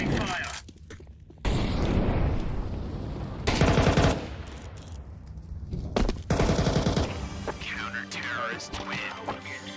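A Negev machine gun in Counter-Strike 2 fires in several long, rapid automatic bursts separated by short gaps, loud and close, with other game sounds around the bursts.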